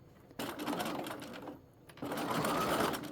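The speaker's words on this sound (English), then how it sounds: "just stitch in the ditch" Sewing machine stitching in the ditch along a binding during a shoulder seam and V-neck alteration, a steady close whirring run that pauses briefly before the motor starts up again.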